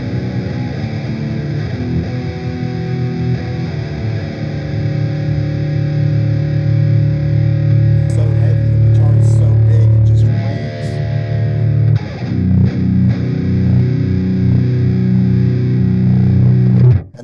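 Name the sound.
electric guitar with EMG pickups played with distortion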